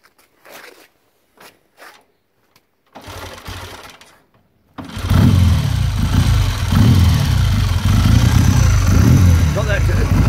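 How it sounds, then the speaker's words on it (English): A 1959 Triumph Speed Twin 500cc motorcycle starts up after a few quiet clicks and knocks, then runs loud and close with a steady, deep exhaust beat. "Got that characteristic Triumph woof from the exhaust, isn't it?"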